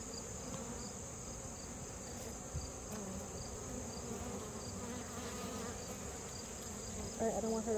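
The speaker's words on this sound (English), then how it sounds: "There's tons of bees now." Dense, steady buzzing of many honey bees swarming close by at an open Flow Hive, a continuous drone filling the whole clip, with faint voices near the end.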